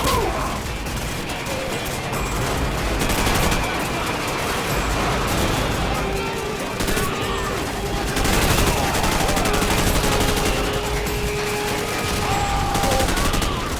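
Call of Duty 4: Modern Warfare campaign battle with dense, loud gunfire bursts and automatic weapon fire over rumbling mechanical noise and crashes, continuous through the whole stretch.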